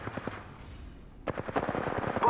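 Rapid automatic gunfire in a video game, a quick rattling burst, a short pause, then a louder, denser stream of shots close up.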